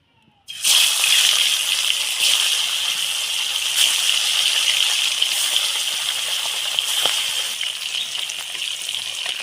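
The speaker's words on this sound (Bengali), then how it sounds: "তেলটা গরম হয়ে গেছে, মাছগুলো দিয়ে দেবো।" Koi fish dropped into hot oil in a wok burst into a loud, dense sizzle that starts abruptly and holds steady, with faint scattered spitting pops throughout.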